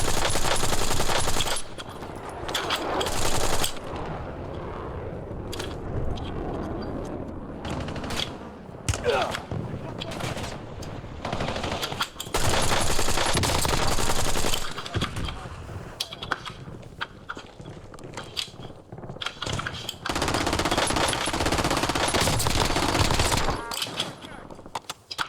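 An MK78 light machine gun fires in a video game in repeated rapid bursts with brief gaps, loud and close, and a voice talks over parts of it.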